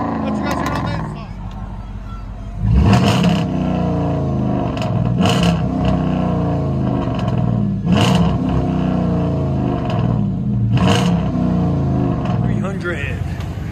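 2013 Chrysler 300 S with a 5.7L HEMI V8 and straight-piped true dual exhaust: a loud, close idle rumble broken by four sharp throttle blips that snap up and fall back at roughly even intervals.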